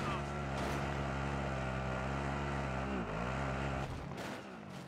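A vehicle is driven in a video game, its engine a loud, continuous droning hum that shifts pitch slightly mid-way and eases down near the end, with no talk over it.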